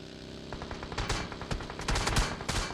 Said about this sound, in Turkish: Bir tane DP'li var. Sürekli sıkıyor.